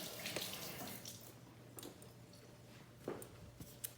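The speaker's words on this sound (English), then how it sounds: "I'm gonna wash my hands real quick" Hands being washed under a running kitchen tap, with a faint, steady stream of water and soft splashes and squishes of hands rubbing, quiet and close.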